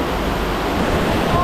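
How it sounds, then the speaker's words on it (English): A big backyard waterfall plunging deep underground, a constant dense roar of falling water heard close and loud with wind buffeting the microphone. "that's a big waterfall"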